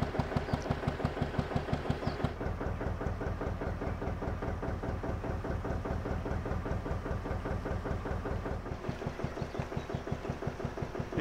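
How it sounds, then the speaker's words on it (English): A narrowboat engine runs steadily on its maiden voyage after launch, a close, even diesel chugging with a regular pulsing beat throughout, briefly shifting in tone partway before settling back into its rhythm. "Even the sound of the engine can't detract from the silence."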